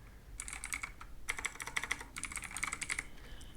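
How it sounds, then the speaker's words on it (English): A name being typed on a computer keyboard, quick bursts of crisp key clicks with short gaps between groups, close and fairly quiet, with no voices. "Now just type any name you want here,"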